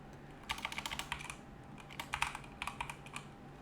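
Quick, uneven bursts of typing on a computer keyboard, with soft key clatter in short runs and brief pauses between them, close and fairly quiet against a faint background hiss.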